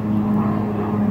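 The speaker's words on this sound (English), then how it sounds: "Plane!" A propeller airplane drones steadily overhead outdoors, a continuous low engine hum at moderate loudness with no talking over it.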